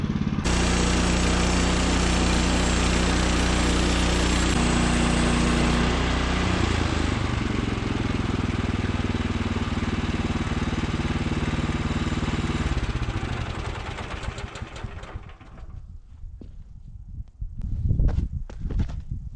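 A Woodland Mills sawmill's engine runs loud and steady as its blade cuts a board off a log, the cut ending around the midpoint before the engine drops to uneven, fading revs.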